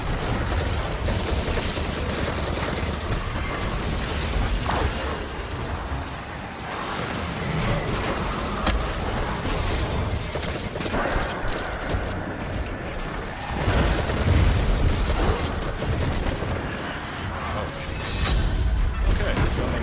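Grenade blasts and rapid gunfire from the video game Destiny 2 form a dense, loud, continuous wash of booms, crackles and mechanical clatter, with a heavier burst near the middle.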